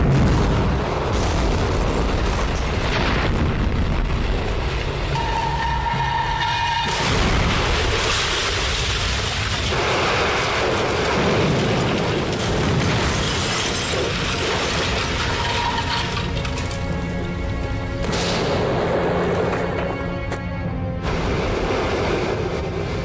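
A WWII Blitz bomb explosion heard as a loud, sustained roar with crackling debris, ratcheting mechanical rattles and brief tonal whines that rise and cut out over about twenty seconds.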